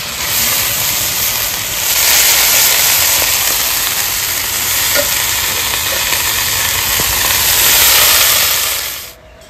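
Cabbage going into a hot pan of spiced, fried potatoes, producing a loud, continuous sizzling hiss with faint stirring clicks that fades out abruptly at the end.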